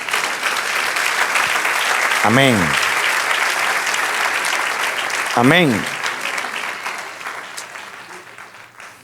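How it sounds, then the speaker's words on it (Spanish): A church congregation applauds loudly and steadily, then the clapping slowly fades toward the end, with voices calling out over it. "Denle un aplauso al Señor."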